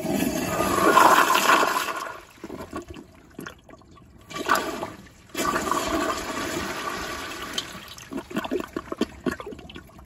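A partially clogged Toto CT705 toilet on a piston flushometer flushes in repeated loud rushing bursts separated by brief gurgling lulls, ending in sputtering trickles.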